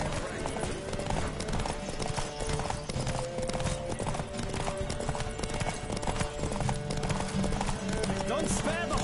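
In The Witcher 3 video game, a horse gallops in a race with rapid, continuous hoofbeats, accompanied by occasional whinnies, voices talking and background music.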